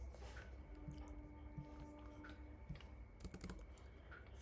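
Computer keyboard typed on while writing C++ code, a quiet, close patter of irregular key clicks with a brief faster burst near the end over a low background hum.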